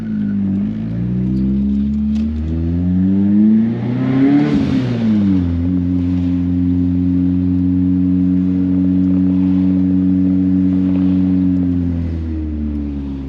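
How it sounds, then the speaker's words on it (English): A 1994 Nissan Sentra B13 with a 1.6 turbo engine and an open exhaust cutout, idling with a steady drone, then revving up once around the middle before settling back into a loud, even, close idle. "Today we installed an exhaust cutout and it sounds amazing in my opinion."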